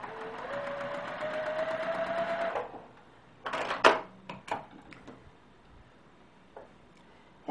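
A sewing machine runs steadily for about two and a half seconds, stitching a quarter-inch seam joining fabric pieces for machine binding, then stops, leaving scattered clicks and handling noises.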